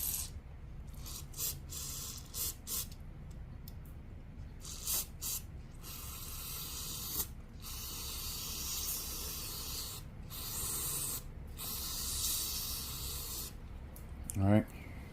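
Aerosol cleaner is sprayed into the clogged carburetor of a 25cc two-stroke weed eater, making a steady, close hiss broken into short bursts. A voice talks over it.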